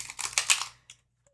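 A quick burst of crisp, rapid flicking and riffling, like cards being shuffled, followed by a couple of faint taps.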